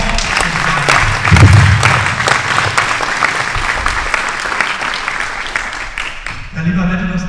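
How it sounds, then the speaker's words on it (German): Applause at a German ceremony honouring judoka Eduard Trippel after the Tokyo 2021 Olympics: a loud, sustained round of clapping from a crowd that fades out as a voice begins speaking at the end. "erstmal ein Danke-Applaus für die, die das hier heute organisiert haben"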